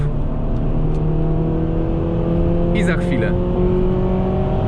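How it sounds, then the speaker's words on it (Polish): A 2007 Honda Civic Type-R engine held at high revs around 5400 rpm, a steady loud tonal drone heard from inside the car, with someone speaking briefly over it. "nagle silnik zaczyna inaczej chodzić"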